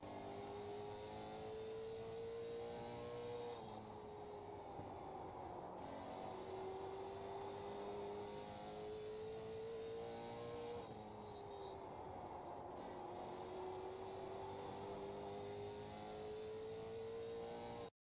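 Late model stock race car engine in a racing video game at Southern National, a steady droning roar heard from inside the car, pitch climbing and dropping through gear shifts and corners, loud and continuous with no talking.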